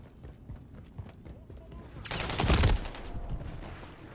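Gunfire in a multiplayer shooter video game, one brief, loud burst of rapid shots in the middle, with faint clicks and game ambience before and after.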